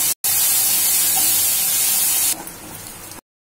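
Ginger, garlic and chili paste sizzles loudly as it roasts in a pan, giving a steady bright hiss that drops to a softer fizz near the end before cutting off.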